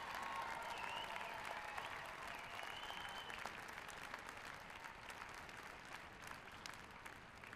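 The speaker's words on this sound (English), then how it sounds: "Would each of you join me in a Husker round of applause for all of our students who earned the doctoral and master's degrees today?" Audience at a December 2024 university graduate ceremony clapping for doctoral and master's graduates, a faint, distant, steady patter of applause in a large hall.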